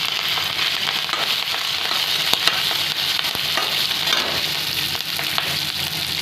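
Dried red and green chillies fry in hot oil, a loud continuous sizzle with crackles and pops, close and steady, no talking.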